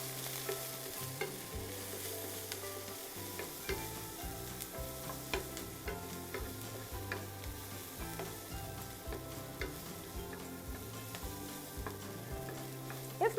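Leftover fried rice sizzles steadily in a hot pan while a utensil stirs and scrapes through it with repeated soft clatters.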